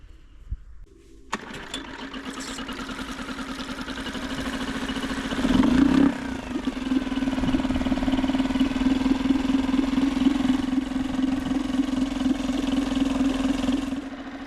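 A small outboard boat engine starts and then runs steadily on a stand, idling with a rattling, buzzing drone that briefly revs up before settling into a constant putter.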